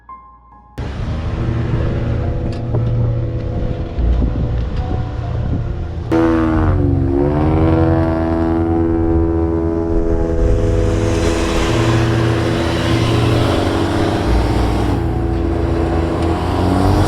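Vehicle grinding through soft beach sand at Padre Island National Seashore, a steady loud engine drone with a rising whine as it pushes on, continuous and close for the whole stretch.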